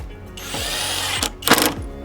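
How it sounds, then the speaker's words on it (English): A power drill drives a screw into a 2x4 board while building a garden bed, giving a sustained whining buzz with short pitch sweeps as the motor starts, slows and bursts again. "I'm going to drill straight down there."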